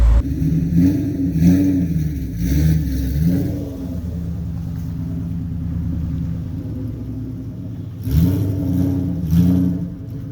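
A 2003 SVT Cobra engine rumbles close by on its first test drive, revving hard in several bursts that settle into a deep steady drone before climbing again.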